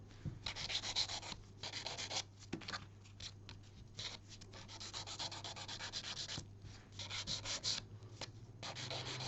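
A nail file buffs a gel nail with quick, repeated scratchy rubbing strokes, close and fairly quiet, in a steady back-and-forth rhythm with brief pauses.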